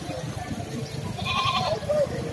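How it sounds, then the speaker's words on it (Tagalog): Native goats bleat at an outdoor goat market around midday, with a couple of short, moderately loud cries rising over a low murmur of crowd and ambient noise. "Marami pa rin kambing na natira."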